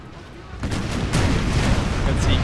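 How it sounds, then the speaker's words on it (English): Napoleonic artillery fires close-range canister shot in Napoleon: Total War with a heavy rolling barrage of booms and crackling volleys, building and sustained over a low, rumbling din. "close range fire of a load of canister"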